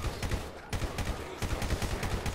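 Rapid bursts of gunfire from a gun in GTA V, repeated shots in a fast, uneven rhythm that fill the whole stretch, loud and close with no talking.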